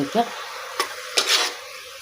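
Cabbage and onion fry in a pan, heard as a few short, close scraping stir strokes over a soft sizzle in a brief moment without speech.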